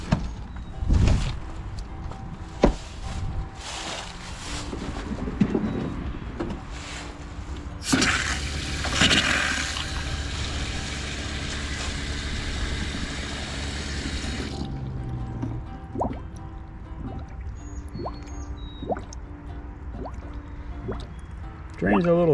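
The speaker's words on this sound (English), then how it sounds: "we got water running through everything" Water running through an outside sink and shower on a camper being de-winterized, with drips, splashes and a steady rushing flow in the middle, plus occasional talk nearby.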